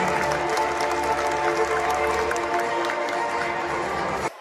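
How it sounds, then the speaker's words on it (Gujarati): A crowd at a community get-together in Rajkot gives loud, sustained applause with scattered cheers, which cuts off abruptly just before the end. "એકવાર જોરદાર તાળીઓ થઈ જાય ફરીથી"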